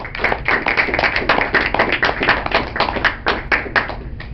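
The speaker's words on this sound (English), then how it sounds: "You don't have to clap in between each one." An audience claps steadily and fairly loudly at a poetry reading, a dense even patter of many hands that continues without voices.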